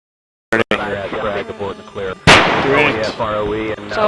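An AC-130 Spooky gunship firing its guns: sharp, heavy booming shots, one near the start and a louder blast midway, heard amid radio-style crew chatter that runs throughout.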